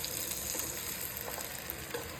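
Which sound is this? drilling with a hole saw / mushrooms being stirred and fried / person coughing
mushrooms being stirred and fried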